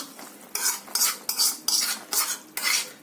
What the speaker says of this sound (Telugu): కొబ్బరి ముక్కలు జీడిపప్పు వేస్తున్నాను